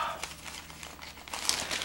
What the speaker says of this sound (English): I have the paper here and I was trying to look at some headlines here.